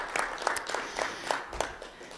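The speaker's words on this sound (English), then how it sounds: "So just a round of applause to all of our presenters and all of our leaders." A sparse, quiet round of claps from a conference audience on health equity, a few distinct hand claps spaced out over a couple of seconds, faint and somewhat distant.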